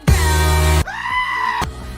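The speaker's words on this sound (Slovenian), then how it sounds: "pa kričeče koze" Screaming goats from the film Thor: Love and Thunder let out two loud, human-like bleating screams, the first long and harsh, the second a rising wavering cry, each ending abruptly.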